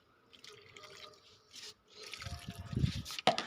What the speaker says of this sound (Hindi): तो इसमें भी डाल देते हैं हम फटाफट से पानी।